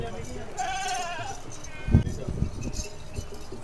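A Beetal goat bleats in wavering cries, then another short bleat follows, with thumps and clinks close by, on a goat farm in Punjab.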